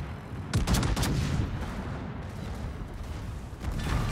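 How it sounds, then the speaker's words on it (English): Heavy naval gunfire in World of Warships during a battle against the North Carolina, with booming salvos and rumbling reports layered in a dense, sustained barrage. "this next salvo from the North Cal's definitely going to kill me"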